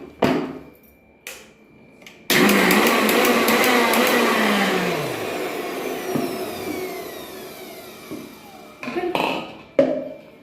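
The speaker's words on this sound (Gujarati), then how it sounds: "સેજ દાણો તૂટે ને એ રીતે આપણે એને પીસી લઈશું" A mixer grinder whirs loudly in short bursts, coarsely grinding moong dal, its motor pitch shifting as it runs, with talking before and after.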